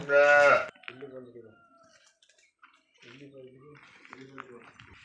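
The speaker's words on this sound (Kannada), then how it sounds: "ಅದು ಸ್ವರ್ಣ ಕಪಿಲ ಹಸು. ಅದು ಚೆನ್ನಾಗಿದೆ ನೋಡಿ. ಟೋಟಲ್ ಒಂದು 9 ಹಸುಗಳಿದೆ." Cattle, including a Swarna Kapila cow, give a loud, close moo at the start, followed by quieter lowing calls and some splashing water sounds in a barn.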